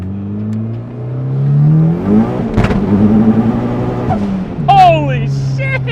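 A high-compression turbocharged 1.6L Miata accelerates hard in third gear with its wheels spinning, the engine note climbing through loud revs with a brief stumble and a sharp shift sound, while a person speaks over it.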